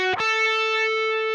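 Single sustained note on a distorted electric guitar, played in a solo lesson, picked sharply and then ringing steadily with a bright, buzzy tone, close and alone.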